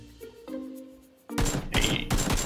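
Gunfire in the PUBG video game, a quiet tonal stretch giving way at about 1.3 seconds to loud, dense bursts of shots that keep cracking through the rest of the clip.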